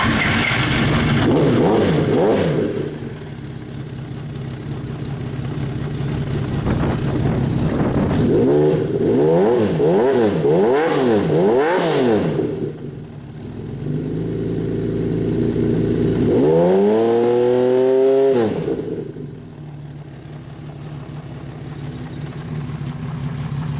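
A 1979 Honda CBX1000 motorcycle engine idles close by, with a first rev, then a burst of repeated quick throttle blips, and a final long rev climbing and falling before it settles back to idle.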